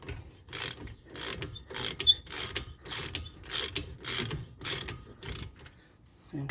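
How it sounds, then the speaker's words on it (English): A ratchet loosens brake caliper bolts on a 2011–2017 Toyota Sienna, clicking in about nine evenly spaced bursts of rapid pawl clicks with brief pauses between strokes, close up and without speech. "I'm going to remove these two bolts here."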